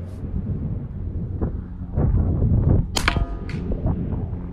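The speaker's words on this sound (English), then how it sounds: "That was 4 shots. We got 1 more here." A CZ 457 LRP rimfire rifle fires at a rifle match shooting targets at 50 to 200 yards, one sharp close crack standing out sharply after a stretch of quieter handling noise, followed by faint mechanical clicks.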